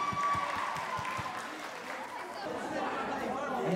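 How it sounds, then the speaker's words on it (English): An audience applauds contestants at a man and lady pageant contest on stage. Scattered claps stand out at first, then thin into mixed crowd chatter and cheering, with voices heard over the noise. "Let's once again give them a big round of applause for their performance."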